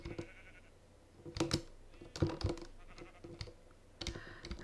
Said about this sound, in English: How did sheep get down there?